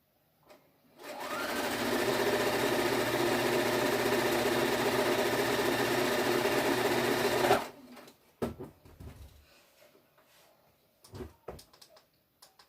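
Sewing machine chain piecing a quilt block, a steady mechanical whirring run for several seconds, then stopping, followed by faint handling clicks and rustles.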